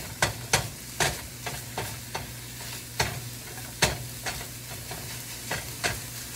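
Dried basil is stirred into a meatball mixture in a pan over heat: about a dozen distinct scraping strokes at an uneven rhythm over a soft background sizzle, close and moderately loud, with no voices.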